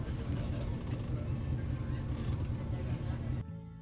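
A tour bus on a Northern Lights sightseeing trip in Iceland rumbles along with a steady low engine drone and road noise inside the cabin, and a voice talks over it before the sound cuts off.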